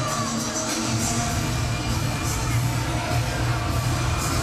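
A sellout crowd of about ten thousand fills Stegman Coliseum at a college gymnastics meet, a dense, steady roar of cheering and yelling that holds loud and unbroken throughout.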